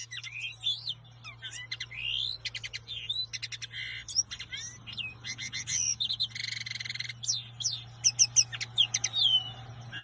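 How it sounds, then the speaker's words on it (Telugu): A linnet sings a rapid, varied song of twittering trills, buzzy notes and sweet rising whistles. The song is continuous and fairly close over a low, steady background hum. "లిన్నెట్ అనే పక్షి కూడా మధురమైన స్వరంతో పాటలు పాడుతుంది."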